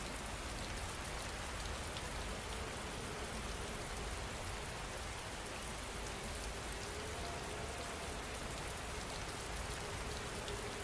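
Steady rain falls without pause, a dense, even wash of drops spattering on surfaces, loud and close, with no voices or other sounds breaking through.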